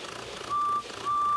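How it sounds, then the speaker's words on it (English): Two beeps from a bus horn in a children's animated railway story, each a steady tone, the first about a third of a second and the second longer, sounding over a soft background hiss. "Beep, beep."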